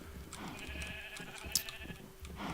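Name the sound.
sheep bleating in Minecraft video game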